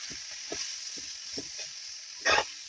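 Shredded cabbage is mixed and stirred in a pan: a series of short scraping strokes every half second or so over a steady faint hiss, ending with one louder, longer scrape.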